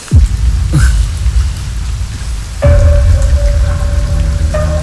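Steady rain falls throughout a tense outdoor scene from a Malayalam TV drama, a dense, even hiss with a sustained tone entering partway through; no one speaks.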